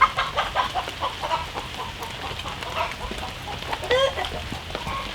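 A hen on a rural cottage property clucks in quick, agitated bursts after touching an electric fence, the calls close and repeated over a low outdoor background.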